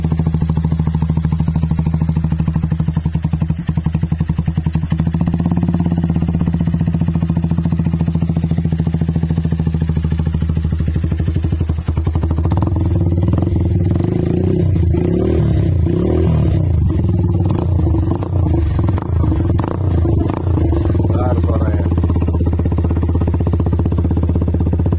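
A Benelli Motobi Evo 200 motorcycle, a custom Sportster-style build, idles steadily with a low, even engine rumble throughout, rising slightly in the second half with some wind buffeting and mechanical clatter.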